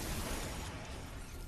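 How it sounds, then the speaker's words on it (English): Loud, dense burst of explosive blasts and crashing debris in the video game F.E.A.R., with a continuous roar of breaking and rumbling that holds steady for the whole moment. "what's up with all the explosions?"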